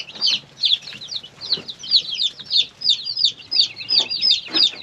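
Baby chicks chirp in rapid, overlapping high peeps, a steady busy chorus close by with a few softer clucking notes underneath and no talking.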